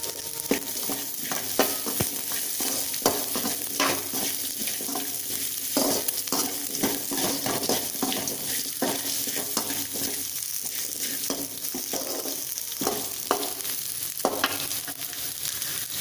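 Whole spices, two cloves and a small piece of cinnamon, sauté in hot oil in a pan for an eggplant curry, giving a steady close sizzle and frying crackle with occasional stirring scrapes throughout, no voices.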